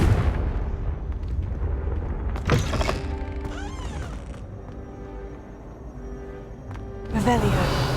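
Booming fire-spell blasts from the Confringo curse in Hogwarts Legacy, loud explosive bursts with crackling tails over dense game ambience, a final blast near the end.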